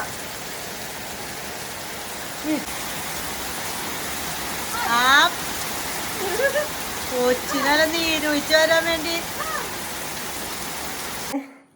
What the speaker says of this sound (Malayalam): പുറത്ത് നല്ല മഴ കേട്ടതേ നല്ല മഴ